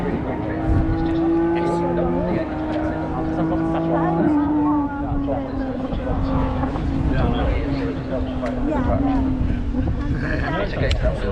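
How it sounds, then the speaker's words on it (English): A rally car in the East Riding Stages Rally, heard from onboard as its engine drones loud and steady with quick pitch steps at rapid gear changes, continuous throughout. "You can hear him changing the gears really quickly."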